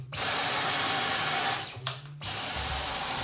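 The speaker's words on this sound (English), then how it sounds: "Here's the vacuum cleaner." A Dyson V10 Absolute cordless vacuum motor whines at a high pitch, cuts out briefly, then starts up again and keeps running close by.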